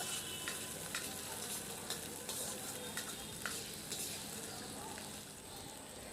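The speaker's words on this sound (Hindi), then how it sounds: "अब हम इसमें डाल देते हैं अदरक लहसुन का पेस्ट। सभी को डालने के बाद धीमी आंच पर इसे भूनते हैं।" Ginger garlic paste fries in oil on low heat for a potato bread snack, a steady close sizzle with soft crackles and intermittent stirring scrapes throughout.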